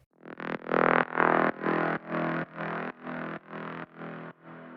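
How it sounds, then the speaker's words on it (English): Distorted saw-wavetable brass synth lead, filtered with resonance and drenched in reverb, plays a run of about nine bright, sustained, evenly spaced notes that start loud and gradually soften, with no voices. "it's really just kind of like a saw wavetable with a ton of distortion, a good filter on it with some resonance, a ton of reverb"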